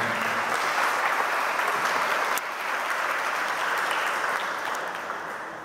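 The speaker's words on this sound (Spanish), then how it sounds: "Nos felicitamos y le regalamos un fuerte aplauso." Applause rings out at a quinceañera mass, a dense, steady clapping from the congregation that carries through the whole stretch, loud and continuous with only a slight dip midway.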